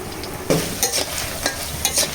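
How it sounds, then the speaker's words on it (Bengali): Pointed gourd koftas frying in hot oil, a close crackling sizzle with a few sharp stirring bursts over about two seconds. "এখন বাদ বাকি যেগুলো ছিল সেইগুলো একে একে ভেজে নেব"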